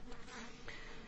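Honeybees hum and buzz densely around an opened hive while a beekeeper adds a box, a constant close drone with individual insects whining past.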